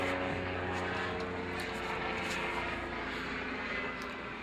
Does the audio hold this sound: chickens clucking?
no